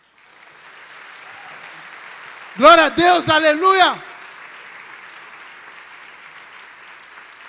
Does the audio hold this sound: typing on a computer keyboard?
no